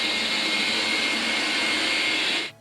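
A Xiaomi Mijia LDS robot vacuum cleaner runs loudly with a steady, high-pitched whirring drone from its suction motor, close and constant, before cutting off abruptly at the end.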